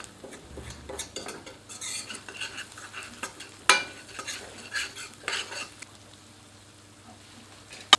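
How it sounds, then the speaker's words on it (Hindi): Chicken masala sautéed over medium heat in a pan, with a spoon repeatedly scraping and clinking against the metal over a soft sizzle, one sharp knock standing out, no talking. "सबको मिलाकर 2 से 3 मिनट मध्यम आंच पर भूनते हैं।"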